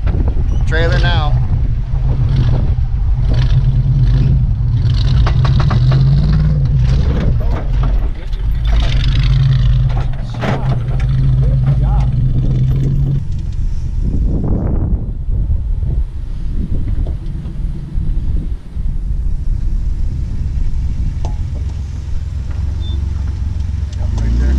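A vehicle towing a trailer grinds and rumbles over a rough trail in Wyoming, with continuous engine drone and scraping under steady wind noise as people talk and call out encouragement.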